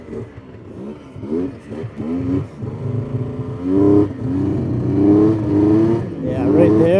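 A Yamaha Vmax 700 triple engine with a skipping, bogging fault revs up close and loud, its pitch wavering and surging unevenly throughout.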